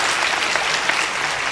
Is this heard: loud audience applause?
yes